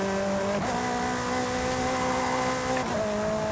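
A Ferrari in Forza Horizon 5 cruises in seventh gear at about 95 mph, giving a steady, fairly subdued engine drone with a brief shift-like dip partway through and no talk.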